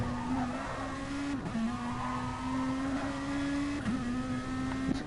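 Race car in a GR2 racing video game with a sustained engine drone and tire skid as it spins out, a steady tone broken by a few brief squeals, no voices.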